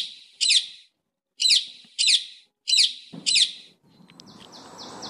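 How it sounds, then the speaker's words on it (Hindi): Wild birds give bright, whistled chirps in short bursts, five calls spaced about a second apart, clear and fairly close, before a low rumbling noise takes over at the end. "इन पक्षियों को देखिए, इनकी प्यारी आवाज"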